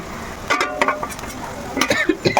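Spice masala of ground coriander, cumin, black pepper and salt sizzles in oil as a spoon scrapes and stirs it, with irregular clinks and scrapes over a low, constant fry.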